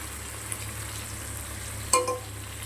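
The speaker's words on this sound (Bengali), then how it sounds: "কিছু সময় মশলাটা কষানো হয়ে গেছে, কাঁকড়াগুলো দিয়ে দিলাম।" Crabs fry in a spice paste with turmeric, giving a low steady sizzle close by with one short clatter partway through and no voices.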